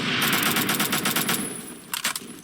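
A rifle fires in the video game Phantom Forces: a long, rapid automatic burst of sharp, evenly spaced shots, then a pause and a short closing burst, loud and close.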